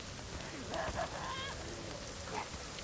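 Steady rain falling in the survival video game The Forest, a dense continuous hiss with a few faint tonal game sounds over it, moderately loud and unbroken throughout.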